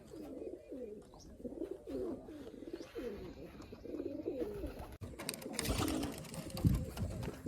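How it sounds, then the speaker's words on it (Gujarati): Pigeons in a loft coo in steady repeated rolling calls close by, joined later by rustling and clattering. "આમાં પણ એક કબૂતર આવ્યું છે"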